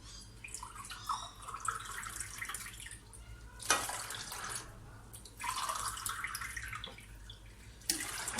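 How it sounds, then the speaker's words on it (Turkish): Water poured into yogurt while making ayran aşı in a home kitchen, with a soft trickling and splashing that comes in bursts, close and quiet, with no talking. "Şimdi yoğurdumun içine su ekleyeceğim."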